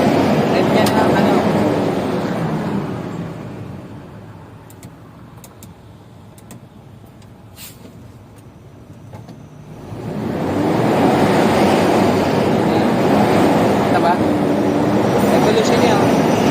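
A truck's diesel engine, running on used cooking oil, revs up loudly, eases down to a quieter idle for several seconds, then climbs back to a loud sustained roar.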